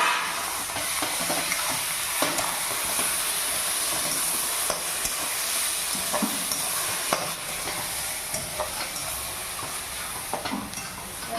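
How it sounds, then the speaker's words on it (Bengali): Boiled bottle gourd tossed into fried egg in a hot pan, giving a loud, steady hissing sizzle with scattered stirring scrapes and small knocks throughout, close by. "ডিম ভাজা হয়ে গেছে, এর মধ্যে দিয়ে দেবো এবারে সেদ্ধ রাখা লাউ।"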